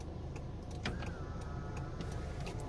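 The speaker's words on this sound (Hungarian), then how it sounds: "behajlanak a tükrök egy gombnyomásra" The electric side mirrors of a 2010 Kia Ceed 1.6 CRDI fold in at the press of a button, a faint whirring motor hum over the car's steady idle rumble, with small clicks.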